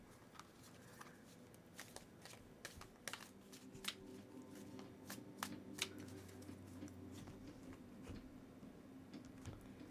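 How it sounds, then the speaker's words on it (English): Tarot cards being shuffled by hand, a steady run of soft riffling flicks and taps over about ten seconds, quiet and close, no voices. "I'm going to go ahead and give her a good shuffle."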